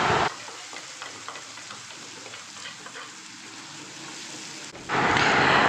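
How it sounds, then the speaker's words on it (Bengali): Ground spice paste with cumin sizzles loudly in hot oil while vetki fish cooks, a steady crackling hiss that continues without a break and swells into a sharper, brighter sizzle near the end. "বাটা মশলাটা দিয়ে 1 মিনিট একটু নাড়াচাড়া করে নেব"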